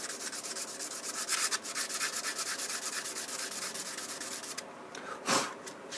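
A gouge being polished against a squeezed tube that matches its inside curve, a continuous close rhythmic rubbing and sanding with steady strokes, one brief louder scrape near the end.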